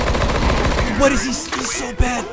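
Rapid automatic gunfire as a player sprays a full magazine in a video game, a dense continuous burst of shots with a sharp crack near the end.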